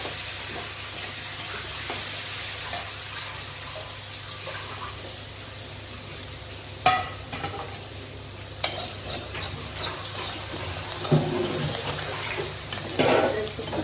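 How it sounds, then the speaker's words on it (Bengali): Chopped potatoes fry in hot oil in a pan where cumin and leaves were already browned, a continuous close sizzle broken by a few sharp stirring scrapes and knocks. "দিয়ে দিচ্ছি আলু কেটে রাখা। আলুটা একটু ভেজে নেবো।"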